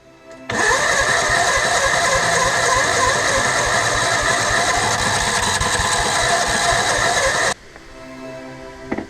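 Gasoline engine on a gold-prospecting auger, running rough with a split piston ring, roars loud and steady for about seven seconds with a harsh, rattling clatter, then cuts off abruptly leaving faint background sound.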